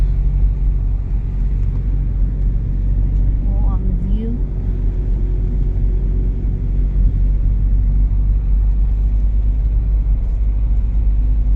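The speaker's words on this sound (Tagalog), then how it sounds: "Kaya dami din ditong dumadaan na mga sasakyan." Cars travel along a wide provincial road off the highway, heard as a steady, loud low rumble of engines and tires with no break from start to finish.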